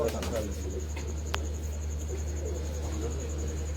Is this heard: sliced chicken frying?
no